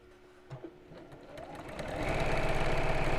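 A sewing machine starts sluggishly after a few clicks, then its motor hum builds into a steady, louder running whir by the end.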